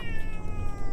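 A house cat meows close and loud, one drawn-out tonal cry filling the moment with no talking over it.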